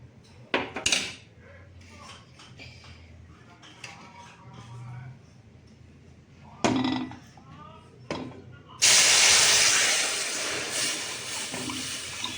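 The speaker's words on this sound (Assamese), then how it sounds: "এতিয়া চেনি আৰু বেলৰ মিশ্ৰণখিনি ইয়াতে ঢালি দিম।" A mixture of sugar and bael fruit is poured into a hot wok while making bael sharbat. There are scattered clinks of metal utensils and pan, then a loud sizzling hiss that starts suddenly and holds steady, with a person talking at times.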